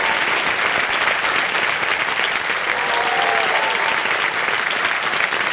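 Loud, sustained applause fills a television studio as a contestant receives a prize cheque for 75 lakh rupees, a dense, even roar of many clapping hands with no breaks.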